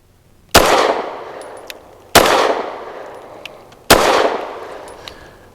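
Three loud, sharp pistol shots from a Rock Island Derya Arms Melik, an all-metal double-action handgun firing Federal HST 124 grain ammunition, spaced about one and a half seconds apart, each with a ringing decay and faint clinks after.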